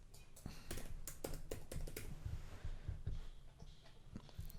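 Rapid clicking of computer keyboard keys as a new password is typed during a WordPress blog setup, a steady run of close, crisp keystrokes with no talk.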